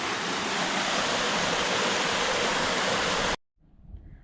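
Fresh hillside stream near Haweswater rushes loudly and steadily close by, a dense continuous water roar that cuts off abruptly near the end, leaving faint quiet background.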